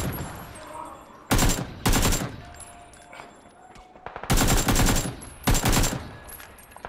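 Gunfire in the battle royale game PUBG: Battlegrounds: four loud, close bursts of rapid shots, grouped in two pairs with quieter outdoor ambience between them.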